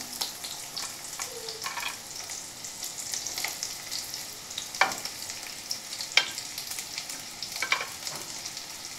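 Onions and green chillies frying in a little oil make a soft, steady sizzle, with faint scrapes and taps of stirring scattered throughout, close by and quiet with no talking.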